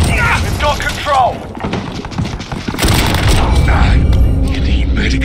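A frag grenade explodes in the Call of Duty Modern Warfare multiplayer battle, a heavy boom with broadband crackle amid ongoing gunfire and game voices.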